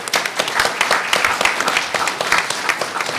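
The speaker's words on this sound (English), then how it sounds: "Let's give him a round of applause." Applause from the audience at a policing-history issue forum, a dense, sustained round of clapping from a sizable crowd, even in level throughout.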